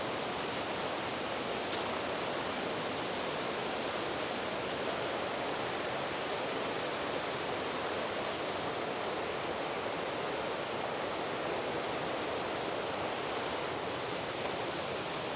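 Steady broadband rush of Maplana waterfall, a hidden natural cascade in Sri Lanka, heard from the approach where its upper section comes into view; continuous and even, with no voices over it.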